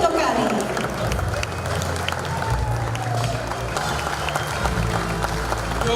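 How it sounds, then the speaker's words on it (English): Applause and cheering ring out for the Sportsman of the Year at a Fiji sports awards ceremony, a crowd clapping steadily under loud amplified talk and hall noise. "Let's give him a round of applause."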